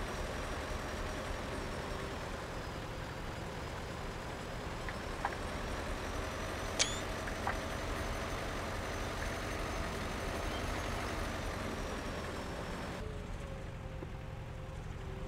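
A DMZ tractor pulls a trailer in Farming Simulator 22, crawling along slowly and laboring, its engine a steady low drone with a few faint clicks and a brief tonal chirp over it.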